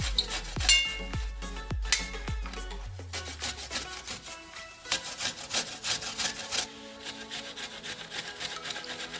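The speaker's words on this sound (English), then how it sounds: "So I'm going to grate with the skin." Green apples with the skin left on are scraped against a grater in repeated rasping strokes, close up, with a few sharp knocks and clinks of the tool between passes.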